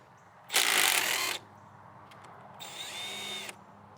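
A Milwaukee right-angle impact wrench removes bolts from the top of the radiator support on a Caterpillar D2 bulldozer. Two loud, close bursts of rapid hammering are heard, the first harsh and about a second long, the second quieter and more whining.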